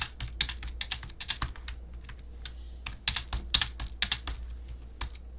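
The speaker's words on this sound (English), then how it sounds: "I am, like, going freaking nuts with how fast I'm typing this." Fast typing on a computer keyboard, close and crisp, with rapid bursts of key clicks separated by brief pauses and no voices.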